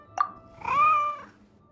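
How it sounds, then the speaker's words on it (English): A small white cat in the video game Genshin Impact gives one clear, drawn-out meow, preceded by a brief soft tap, heard alone and fairly close. "Oh, it's the little white cat."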